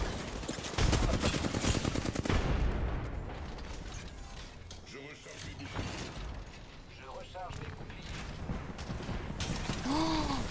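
Rapid video-game gunfire crackles in bursts of automatic shots alongside mechanical clicks and ratcheting, loud and close, with a player talking over parts of it.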